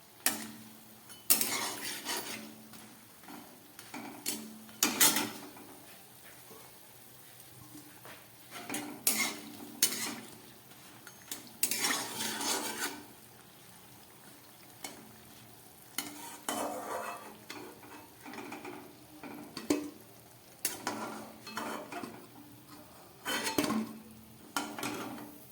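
Pieces for a winter sweet fry in a pan, with bursts of sizzling and repeated scraping and clinking of a utensil against the pan at close range, recurring every few seconds over a low hiss.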